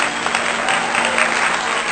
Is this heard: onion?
no